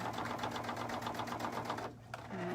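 A sewing machine fitted with a walking foot stitches steadily at a fast, even rhythm close up, pauses briefly, then starts running again.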